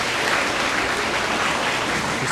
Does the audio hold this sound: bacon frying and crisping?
no